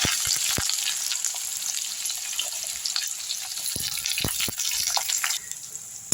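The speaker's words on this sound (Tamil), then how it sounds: "இப்போ வெங்காயம் போட்டுப்போம்." Onions fry in sesame oil in a kadai, giving a bright, continuous sizzle close by, broken by a few sharp crackles and spatters.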